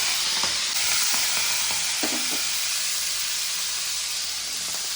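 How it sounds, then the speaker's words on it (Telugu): Fenugreek leaves dropped into heated oil for a tamarind bitter gourd stew, a loud, steady hiss and sizzle close by, with a few light clicks of stirring early on and no talking. "హీటాక ఫస్ట్ మెంతికూరని యాడ్ చేసుకోవాలి, ఇట్లా చిప్పట్లాడాలి"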